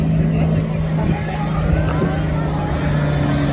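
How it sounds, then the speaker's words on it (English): A pulling tractor with a new engine and turbo setup revs on the line at a tractor pulling event in Brechin, Scotland: a steady, loud, droning engine tone held for several seconds over crowd babble. "with a little race machine building up the rev on the line, making that push"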